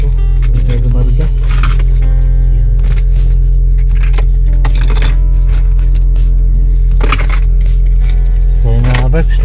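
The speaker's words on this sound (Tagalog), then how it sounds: "Ayan natin yung susi ko." Car keys jangle and clink near the microphone in bursts over a steady engine hum, with a voice speaking over the sound.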